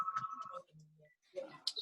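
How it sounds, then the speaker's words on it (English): A phone ringtone plays as a short electronic melody of tonal beeps, heard at moderate loudness during an online public meeting, with brief pauses and some faint background sound. "We got a phone ringing."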